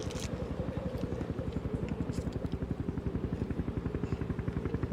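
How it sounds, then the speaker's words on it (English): A helicopter's rotor thumps in a fast, steady rhythmic chop throughout, fairly close and continuous, with faint voices in the background. "Do you hear that? What? Helicopter."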